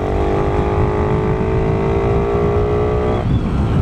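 A motorcycle engine with a five-year-old motor and a cut valve guide revs steadily up close, a loud buzzing drone whose pitch holds then drops off near the end, with no talking.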